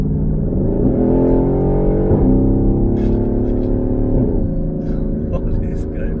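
A Mercedes SLK AMG accelerates hard at full throttle on the autobahn, its engine note climbing through several quick upshifts, loud and close from inside the car.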